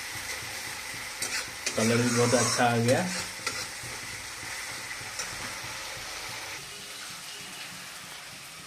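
Homemade masala with pure home-ground turmeric sizzles in a pan for a Bengali-style fish curry, with a loud stirring scrape and bursts of frying in the middle, then a softer steady sizzle; someone speaks briefly.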